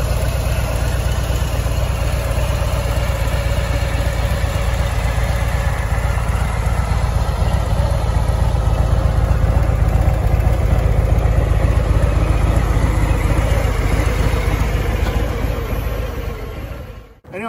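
A 2020 Harley-Davidson Breakout 114 motorcycle with stock pipes idles close and loud in a deep, steady, slightly pulsing rumble that carries on unchanged for about sixteen seconds before it abruptly stops.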